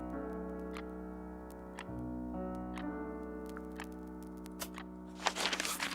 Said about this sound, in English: just a ticking noise.